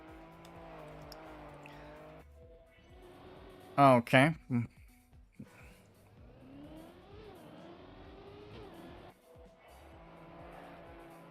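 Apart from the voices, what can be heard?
rally car driving in Trackmania video game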